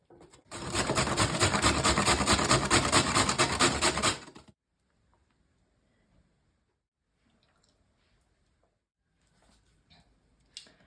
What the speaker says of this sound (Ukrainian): Беремо моркву, 2-3 середніх морквини, це приблизно також 200 грам, і натираємо на крупну тертушку.